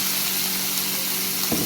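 Ash gourd curry frying in a pan: a steady, close hiss of sizzling oil runs throughout, with a brief scraping stir near the end.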